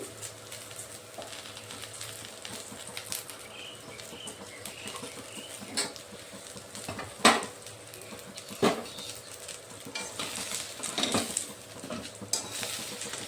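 Fried jackfruit pieces are lifted out of a wok with a spatula while making a jackfruit prawn curry: scattered scrapes and metal clinks, a few sharper, over a low steady frying sizzle.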